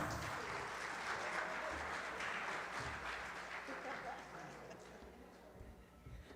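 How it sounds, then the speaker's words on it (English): An audience at a regional chamber of commerce event applauds to welcome a speaker, with a dense wash of clapping that slowly tapers off and some voices mixed in underneath. "Give her a round of applause."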